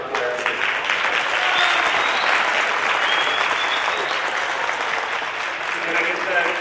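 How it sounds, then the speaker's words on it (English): A crowd at a women's futsal event gives a sustained, even round of applause for the players, steady and fairly loud throughout, with some faint voices mixed in. "Give a round of applause to our players."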